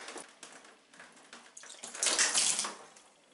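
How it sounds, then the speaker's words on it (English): Water splashing and trickling from a shower hose just disconnected from a shower bar mixer valve, quiet and close, with irregular spurts swelling into a louder gush near the end. "we'll get a bit of water coming out of this now"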